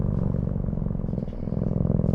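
A cat purrs close up in a steady, rhythmic low rumble that continues throughout without pause.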